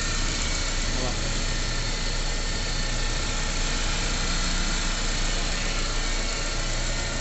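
A 2008 GM Corsa Hatch Maxx idles with a steady, even engine hum that stays constant and fairly loud throughout, while someone talks over it.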